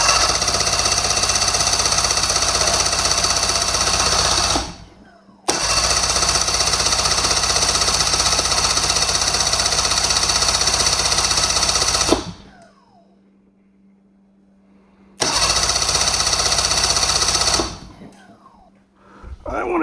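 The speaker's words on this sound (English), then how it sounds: "Now the carbs are dry, so it should crank for a little while before it actually starts." The engine of a 2015 Ski-Doo 600 Sport snowmobile cranks with dry carburetors in three loud, rapid, rattling bursts of several seconds each, separated by short pauses, close to the microphone.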